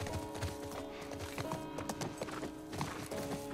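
Horse hooves gallop in The Last of Us video game, a steady, fast clip-clop rhythm over a dense bed of game sound.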